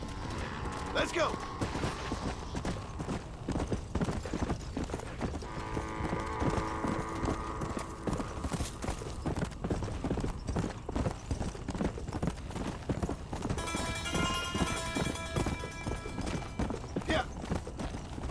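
Horse hooves clip-clop steadily at close range while riding in Red Dead Redemption, a brief neigh-like tone rising over the gait, with game music and a man's short remarks on top.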